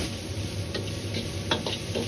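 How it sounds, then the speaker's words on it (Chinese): King oyster mushrooms and green beans are stir-fried in a wok, with a faint, low sizzle and a few light scraping and tapping strokes from the spatula in a quiet kitchen. "接着倒入控干水分的豆角，再次煎炒30秒鐘左右，主要是煎炒出豆角多余的水分"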